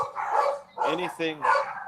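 Dogs bark loudly in a few close bursts, overlapping someone talking.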